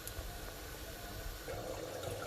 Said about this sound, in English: I'm adding the star anise and the lukewarm water